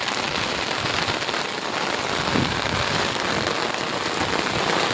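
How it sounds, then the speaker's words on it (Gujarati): Heavy monsoon rain pours steadily in a dense, continuous hiss, loud and close, with no voices. "બધા ધીમો પડી ગયો છે વરસાદ"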